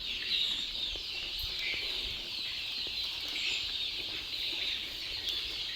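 Sonali breed village chickens feed together in a shed housing about a thousand birds, producing a faint, steady chorus of soft clucks and chirps throughout, with occasional light rustles.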